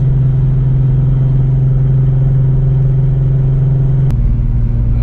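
A twin-turbo V6 car engine cruises at 80 mph around 2630 RPM, a loud steady low drone that drops slightly in pitch near the end.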